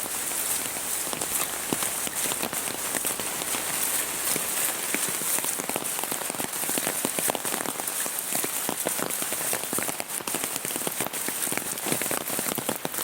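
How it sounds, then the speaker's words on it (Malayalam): Rain pours steadily onto a surface, a dense continuous patter with scattered sharper drops, close and fairly loud throughout with no one speaking. "മഴയാണ്"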